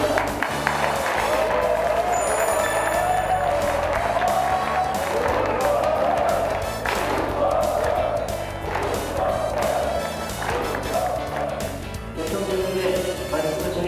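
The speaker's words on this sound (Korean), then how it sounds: "큰 박수로 환영해 주시기 바랍니다" Sustained applause and cheering from a crowd welcoming a speaker at a Korean political party conference, a steady dense wash of clapping lasting throughout, with a voice speaking over it near the end.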